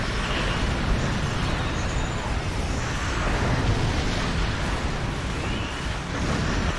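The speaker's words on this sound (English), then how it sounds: "Oh, that was a lovely explosion." Sustained roaring blast from an explosion in the space combat game Star Trek Online, a broad, loud rushing rumble that holds steady for several seconds with no voices.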